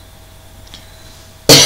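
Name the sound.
cough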